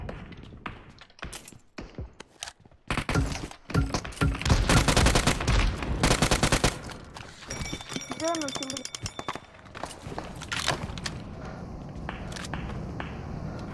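PUBG Mobile gunfire comes in rapid automatic bursts and scattered single shots, loudest in the middle, mixed with in-game footsteps and other effects while players talk excitedly over it.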